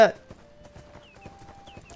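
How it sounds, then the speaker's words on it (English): Horse hooves from a mount in the ArcheAge game clop in a soft, regular walking rhythm, fairly quiet, with faint chimes and tones from the game around them. "I have a regular old horse"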